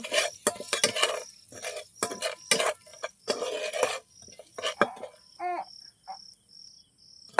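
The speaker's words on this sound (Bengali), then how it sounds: "এটাকে ভালো করে আমি নেড়ে নেব।" Turmeric powder and salt are stirred in a pan with a metal utensil, giving irregular scraping and clinking strokes that end in a few sharp metallic taps, with a faint insect-like chirp in the background.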